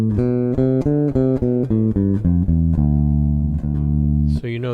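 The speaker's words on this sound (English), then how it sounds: "I'm going to pick today for us to use the Dorian Mode, which is a minor scale with the raised 6th." A melodic instrument plays a D Dorian scale, a minor scale with a raised sixth, as a run of distinct, evenly spaced notes stepping upward, close and clear, ending in a brief held tone.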